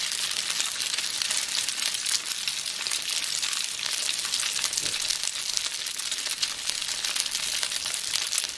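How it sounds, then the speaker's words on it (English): Homemade pierogi fry in a pan, giving a continuous crackling, sizzling hiss that stays steady and close with no voices. "And then fry them if you want"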